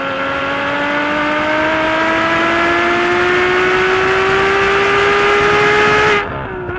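A Ferrari F12 Berlinetta's exhaust howls in one long, loud, rising note as the engine climbs steadily through the revs, then cuts off abruptly near the end.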